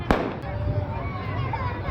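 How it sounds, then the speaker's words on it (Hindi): A single sharp firecracker pop bursts near the start during a wedding procession, followed by steady crowd noise and voices. "बारात में वाले पटाखे फूटना मस्ट है, मस्ट, इट्स कंपलसरी।"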